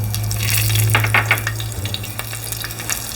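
Two green and two dried chillies frying in hot oil with bay leaves, a brief close sizzle with a few spattering crackles, loud and alone over a steady low hum.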